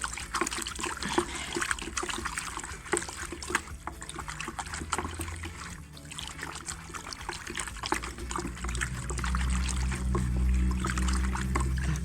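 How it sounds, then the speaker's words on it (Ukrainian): Liquid trickles and splashes steadily into a watering can outdoors while treating grapevines in autumn, a soft continuous pouring with uneven gurgles that thickens toward the end as a low hum builds underneath. "тепер все її заливаю в лієчку."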